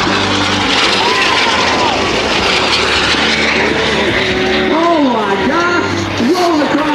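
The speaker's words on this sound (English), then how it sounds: "The 2X Thunderbirds are going to miss it by 20 feet at show center." Thunderbirds jets passing show center at an air show, a loud sustained engine roar with sweeping pitch shifts as the aircraft fly by, while a voice talks over it throughout.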